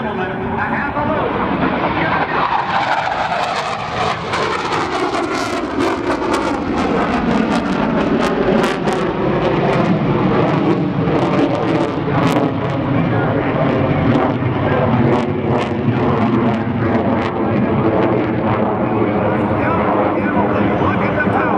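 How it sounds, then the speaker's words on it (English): Aircraft fly an Immelmann half-loop at the NAS Oceana airshow in 2005, a loud sustained engine roar that sweeps downward in pitch as they pass and pull away, with a voice talking over it. "This is going to be a demonstration of a maneuver that started in World War I by German pilot Max Immelmann. A half a loop."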